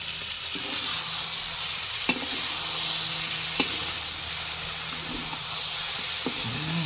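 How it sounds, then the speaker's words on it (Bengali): Cabbage with sugar frying in a pan produces a steady close sizzle and hiss, broken by two sharp utensil clicks as it is stirred. "চিনিটা দিয়ে দিলাম বাঁধাকপিতে দিয়ে একটু"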